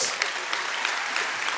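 A large audience applauds Hall of Fame inductees in a brief, continuous wash of clapping at moderate distance, with no voices standing out.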